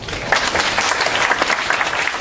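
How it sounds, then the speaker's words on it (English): A room full of people breaks into loud, dense applause, close and sustained, a continuous crackle of many clapping hands with no pause throughout. "round of applause"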